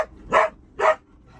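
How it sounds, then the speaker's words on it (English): A dog lets out two sharp barks about half a second apart, close and loud, with a quiet pause after. "hey, no barking."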